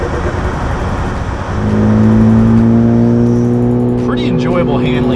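Stage 2 Ford Focus ST driven on a road, engine note rising from a rumble into a steady, loud revving drone with clear tones, while voices talk briefly over the end.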